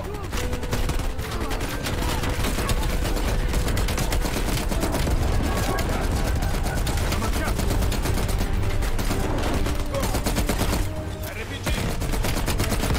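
Machine gun fire in the Call of Duty Black Ops Cold War campaign: dense, continuous rapid bursts of automatic gunfire, loud and close, with brief pauses and scattered booms, while players talk over it.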